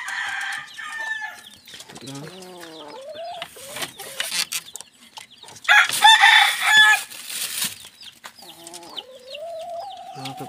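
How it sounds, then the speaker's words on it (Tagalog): A young red-combed rooster crows several times nearby, the drawn-out calls rising and falling, with hens clucking and wings flapping in between. "Ito yung tandang ko."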